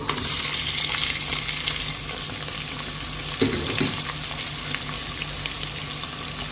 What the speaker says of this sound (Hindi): तो इसमें अब हम ऐड कर देंगे ओनियन।